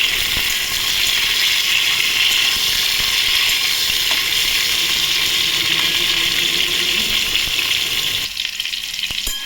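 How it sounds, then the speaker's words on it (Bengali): Potatoes and pointed gourd frying in hot oil give a loud, steady sizzle with a hiss that runs unbroken for the whole stretch, then drops off slightly at the very end. "এর মধ্যে পটল দিয়ে দেবো। পটল আগে একসাথে ভালো করে ভেজে নেব।"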